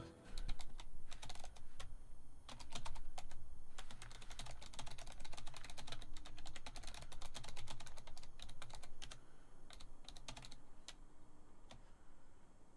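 Computer keyboards clack in fast, dense bursts of typing, close and steady over a faint background hum, with no talking.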